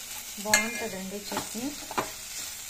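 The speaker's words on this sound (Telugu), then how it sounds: "బీరకాయ పొట్టు, సొరకాయ, టమాటా అన్నీ కలిపి నూనెలో వేయించుతున్నానండి" Ridge gourd peel, bottle gourd and tomato frying in oil for chutney, with soft sizzling and a few stirring scrapes of the pan while someone speaks.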